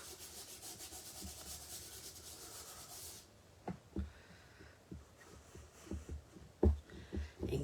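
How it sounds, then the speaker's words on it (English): An embossing buddy pouch rubbed briskly over cardstock gives a steady dry scrubbing hiss for about three seconds, then a run of soft scattered taps and light handling knocks close by. "let's use the embossing buddy"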